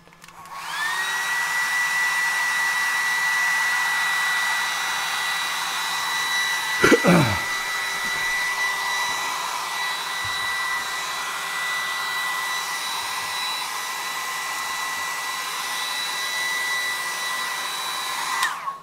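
A hair dryer blows steadily and loudly for the whole stretch to dry paint, with a brief knock or handling bump partway through and no talking.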